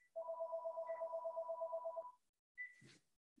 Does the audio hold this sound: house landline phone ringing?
yes